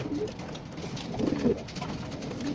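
Rock doves cooing softly at close range in a repeating low, murmuring rhythm that swells in the middle, with no talking.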